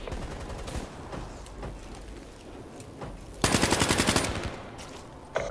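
A submachine gun fires in Black Ops 3: after scattered single shots, one loud sustained automatic burst of rapid evenly spaced rounds lasts about a second.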